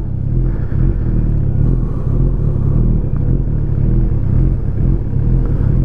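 An Audi A3 launches from a standstill, its engine rumbling low and steady up close, with no one speaking.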